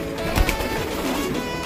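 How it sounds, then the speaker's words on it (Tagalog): Pigeons in a loft cooing softly amid steady background noise, with a faint low call or two standing out briefly. "At yung mga kalapatids, ayun yung mga ibon natin."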